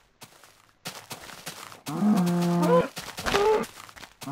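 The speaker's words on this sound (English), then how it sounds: "Let's kill a cow." A cow in the video game Minecraft lets out moos, a short low call followed by a longer drawn-out one, close and clear, with clicks and game noises around them.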